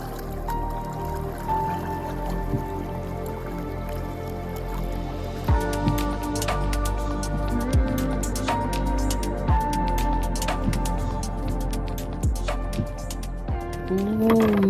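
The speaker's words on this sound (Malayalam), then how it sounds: "ഈ ഒരു കാറ്റിൻ്റെയും ഈ വെള്ളം പോണതിൻ്റെയും വെള്ളത്തിൻ്റെയും സൗണ്ട് മാത്രം ഒന്ന്" Flowing water and wind at Munroe Island, a backwater island in Kerala: continuous close gurgling and dripping water over a steady breezy background, with occasional small knocks and creaks, no talk.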